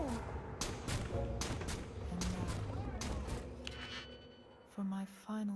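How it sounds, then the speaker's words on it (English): A spotlight blows up in the Starfield video game, a burst of explosive cracks and rapid gunfire-like pops over dense, loud game noise, with a voice talking in the background. "the spotlight explodes"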